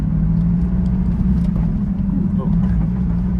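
A Ferrari F430 with a manual transmission swap drives on the road, its engine a loud, steady low rumble from inside the cabin, mostly holding an even pitch with slight surges.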